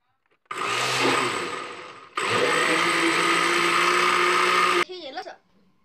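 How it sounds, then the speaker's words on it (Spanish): A kitchen blender whirs loudly, blending milk for a flan, running in two long bursts with a brief pause between, then stopping as a voice speaks. "Voy a llevar a licuar."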